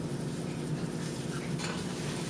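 A low, steady bubbling and simmering hiss of heavy cream boiling in a pot on the stove for steamed mussels, fairly quiet and continuous with occasional soft stirring sounds.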